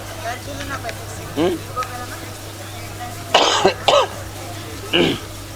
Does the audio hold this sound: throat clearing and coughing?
yes